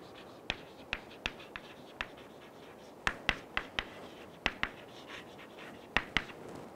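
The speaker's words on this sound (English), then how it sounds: "So let me write here maneuvering flight." Chalk or marker tapping and scratching on a lecture-hall board in a quiet room, a string of sharp, irregular clicks spread throughout with faint scraping between them.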